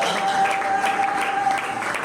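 Audience applause and cheering at a church gathering, loud and close, mixed with voices and a sustained whistle-like tone through the short burst.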